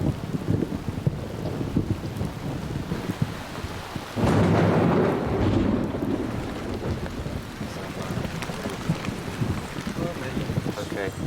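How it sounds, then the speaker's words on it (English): Heavy tropical rain pours steadily over an Indonesian rainforest while thunder rolls and swells in the middle, with faint voices in the background under the downpour. "the clouds roll in and the rains come"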